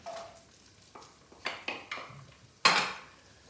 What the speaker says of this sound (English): Give it a nice stir, just like that.